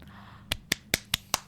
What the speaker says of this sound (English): You pressured me into clapping.